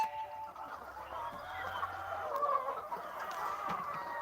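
Chickens at an egg farm cluck softly and intermittently at a moderate distance, a faint, busy murmur of hens without talking.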